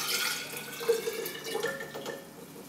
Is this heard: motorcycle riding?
no